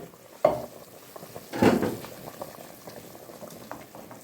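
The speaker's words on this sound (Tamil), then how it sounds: "உலையை பாருங்கள் அப்படியே கொதிக்கிறது" Water boils hard in a pot for Dindigul mutton biryani with seeraga samba rice, a steady bubbling hiss broken by two louder surging bursts near the start, close and with no voices.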